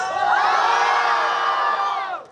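A loud crowd cheering and shouting together at a mobile phone showroom opening in Salem, a sustained roar of many voices that fades at the end.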